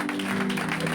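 A church congregation applauds in praise of the Lord, a dense wash of clapping that sounds even and sustained for a moment, with a low hum of voices beneath.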